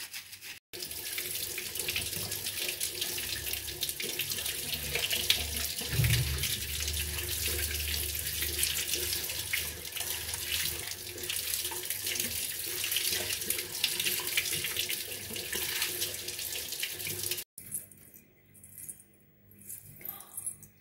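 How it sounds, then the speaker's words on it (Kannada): Silver jewellery is rinsed under a running tap, with a steady, full splash of water into a sink for most of the time before the flow stops and only faint drips and handling noises remain. "ಕೊನೆಗೆ ನಾವು ಫ್ರೆಶ್ ವಾಟರಲ್ಲಿ ತೊಳ್ಕೊಳ್ಳೋಣ."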